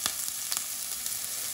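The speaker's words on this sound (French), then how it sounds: "je vais venir mettre les oignons" Onions hit hot oil in a saucepan and give a bright, steady, close sizzle with a few crackling pops near the start, lasting only a moment.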